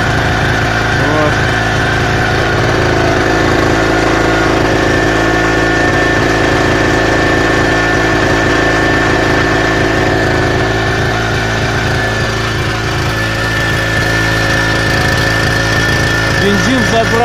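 A Patriot 950 petrol generator runs on old two-stroke-mixed fuel, its small engine droning loud and close with a slightly hunting speed as it settles, a steady buzzing hum throughout.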